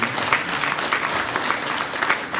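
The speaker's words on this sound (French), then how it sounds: "on l'applaudit" Steady applause from an audience at an 11 November remembrance ceremony in Erny, dense clapping held at an even level throughout, with no voices over it.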